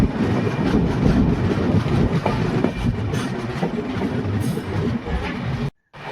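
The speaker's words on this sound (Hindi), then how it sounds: "1958 न्यू दिल्ली साबरमती स्वर्ण जयंती राजधानी एक्सप्रेस" Swarna Jayanti Rajdhani Express, the New Delhi–Sabarmati train running nonstop from Jaipur toward Ajmer, thunders past close by with a steady rumble and wheel clatter before cutting off abruptly near the end.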